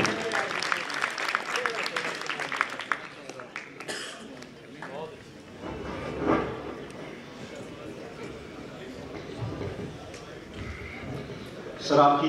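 Audience at a poetry recitation applauding poet Faisal Khayaam, a dense burst of clapping at the start that thins out into scattered claps and crowd murmur, with a voice speaking over it.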